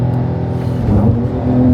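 A Porsche 992 GTS launching under launch control gives a loud, continuous engine roar with a deep rumble that swells and builds toward the end.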